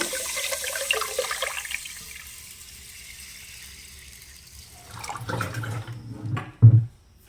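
Water pouring into a cooking pot of washed rice, with a soft splashing flow at first that fades, then a louder gush and a brief clunk near the end.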